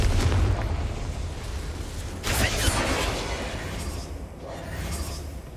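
A Confringo fire spell bursts in Hogwarts Legacy, a broad blast rising about two seconds in over a steady rumbling game backdrop, with a second swell near the end.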